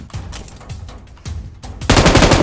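Rapid automatic gunfire from a PUBG Mobile match, several loud bursts with a sustained dense volley at the end, no talking.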